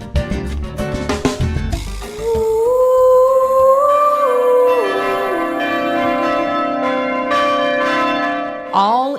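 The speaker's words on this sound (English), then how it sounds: "All evening, those bells." Church bells ring out in long, sustained tones that hang in the air, preceded by a brief jumble of clattering sounds.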